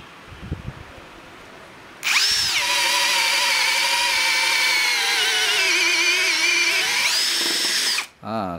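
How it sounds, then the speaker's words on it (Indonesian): A Mark-X brushless drill driver spins at high speed through treated pine pallet wood, a loud whirring burst lasting about six seconds with pitch dipping under load before winding down. "Kita drill."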